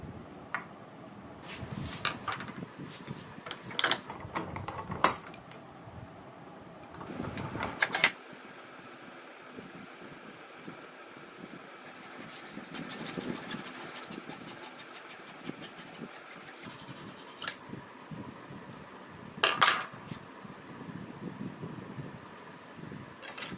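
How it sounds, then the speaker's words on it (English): Quiet scraping and sawing of 15 mm pieces cut from a 1-inch plastic pipe for inductor coils, in irregular bursts with short pauses and occasional clacks of handling. "we have to cut two pieces of 15 mm long plastic pipes"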